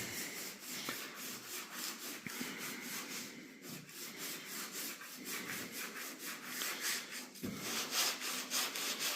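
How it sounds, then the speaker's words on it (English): A sanding block rubs back and forth across a car body panel in steady, rhythmic rasping strokes, close and fairly loud with no voices. "that still impresses me how that just sands away like it's supposed to"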